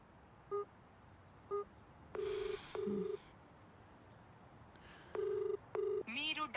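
Telephone tones sound in a Telugu movie scene: short beeps, then a longer busy signal of paired tones repeating at steady intervals, faint and clear, with a brief voice at the end.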